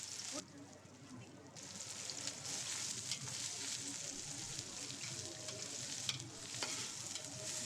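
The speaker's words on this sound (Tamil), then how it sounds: "நீளமாக கட் பண்ணி வச்சுருக்கேன் 4 வெங்காயம் இருக்கு இல்லையா, அதை ஆட் பண்ணி நல்லா அது பொன்னிறம் ஆகிற வரைக்கும்" Four long-sliced onions fry in a pan for prawn biryani, making a dense, continuous, close sizzle with scraping stirs. Brief spoken bits fall under the hiss.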